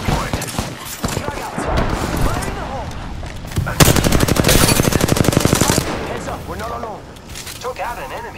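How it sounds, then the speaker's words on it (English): An Apex Legends firefight with rapid machine-gun bursts and single cracking shots, loud and close, while voices talk over the shooting. "Getting shot at."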